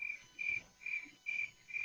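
Five evenly spaced, high chirping bursts repeat in a steady rhythm, a human voice imitating crickets, soft and alone.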